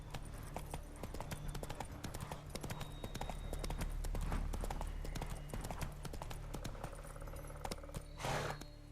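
Horse hooves in The Witcher 3 pound in a fast, continuous galloping rhythm, near and steady, with faint jingling tack and a low game-world rumble beneath.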